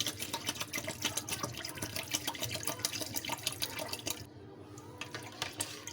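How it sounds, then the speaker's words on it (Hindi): Cold water poured into a sweet-sour sharbat in a home kitchen, a steady close splashing pour with dripping, running continuously for several seconds with a brief dip near the end, no talk. "सिर्फ इसमें ये मैं ठंडा पानी ऐड कर रही हूँ"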